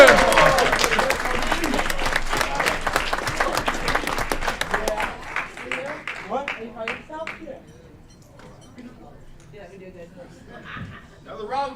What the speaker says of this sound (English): Round of applause for Kevin E.